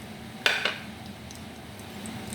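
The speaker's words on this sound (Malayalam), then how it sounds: "കുറച്ച് ഉലുവ ഇട്ട് കൊടുക്കാം." Fenugreek seeds drop into hot oil in a heated pan for a Kerala curry, producing a couple of sharp metallic clinks followed by a soft, steady sizzle with faint light pops.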